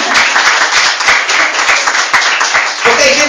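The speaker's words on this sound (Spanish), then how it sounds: "¿Quiere dar un fuerte aplauso al Señor?" Church congregation giving a loud round of applause, dense overlapping hand claps filling the room steadily for several seconds, close and energetic.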